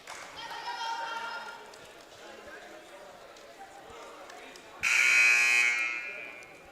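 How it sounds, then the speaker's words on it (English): A harsh electronic basketball game buzzer sounds twice in a busy arena during a timeout, a long moderate blast followed by a louder, sharper one over crowd noise and talk. "they'll sound the buzzer."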